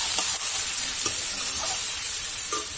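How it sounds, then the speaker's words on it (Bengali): Sliced onion and potato frying together in oil in a pan, a steady close sizzle broken by several scraping, clattering strokes as a spatula stirs them. "আলুটাও একসাথে ভাজা হবে।"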